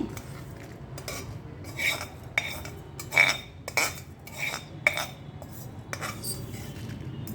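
Tamarind chutney is pounded in a stone mortar, giving irregular hard knocks with bright, ringing clinks spaced a second or so apart over a low, steady background, with no talking.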